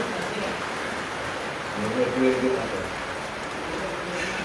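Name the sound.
heavy rain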